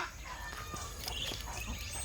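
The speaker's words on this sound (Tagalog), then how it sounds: "Ayan yung alaga ng pinsan kong pato at saka manok" Farmyard chickens and ducks kept at a rural home in Marigamot, with soft scattered clucks over a steady outdoor background hum and rustle.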